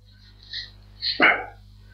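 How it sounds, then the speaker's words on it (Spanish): A single sharp bark from a female dog close by, preceded by a faint whimper, against a low steady hum with no talking. "me acompaña mi perra Pampa."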